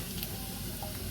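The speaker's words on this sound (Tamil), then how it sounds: "நல்லா தாளி பட்டுட்டுது வெங்காயம்." Onions sizzling and frying in oil in a pan for a shark fish curry, a steady close hiss with faint crackles running throughout, no talk.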